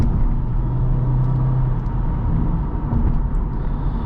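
Steady low engine and road rumble from a 2012 Lexus IS250 AWD sedan driving, heard from inside the cabin, continuous and even with no speech.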